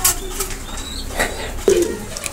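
Teddy breed pigeons of an imported bloodline coo softly and close by, with a rustle like brief wing flapping and a few low throaty calls over a light background hiss.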